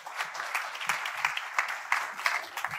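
Light applause from a conference audience at EmberFest lightning talks after a talk, a thin patter of claps at moderate level throughout.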